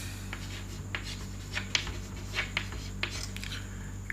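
Chalk scratching and tapping on a classroom blackboard as characters are written, faint strokes at uneven intervals over a steady low hum, with no talking.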